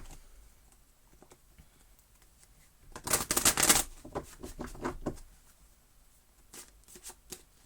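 Energy Oracle cards are shuffled by hand, first with a few faint ticks, then a burst of crisp riffling patter in the middle and scattered card flicks trailing off toward the end, close and quiet with no talk.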